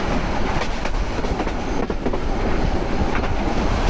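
Loud, continuous rolling roar of the moving Chattala Express intercity train in Bangladesh, heard close up from on board, with rhythmic wheel clatter and no talking.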